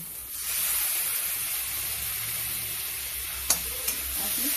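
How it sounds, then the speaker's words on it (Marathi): Tomatoes frying with garlic paste and cumin seeds in a pan, a steady loud sizzle and hiss with a couple of sharp knocks from the stirring spoon near the end, no voices. "लसणाची पेस्ट टाकते आणि फिरून घेऊया। टमाटर टाकते,"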